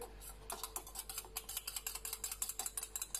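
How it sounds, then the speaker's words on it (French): A whisk beats a homemade face cream mixture in a bowl, giving a fast, steady run of light clicking strokes close by with no voices. "Je vais fouetter un petit peu."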